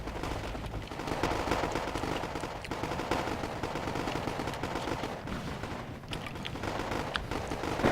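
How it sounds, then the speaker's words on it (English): In the war game Wargame Airland Battle, Mi-4A helicopters unleash rocket salvos on Marines, a continuous rapid crackle of launches and explosions, dense and sustained with sharper bursts, no talking. "Mi-4As suppressing the Marines with rocket fire from quite a array"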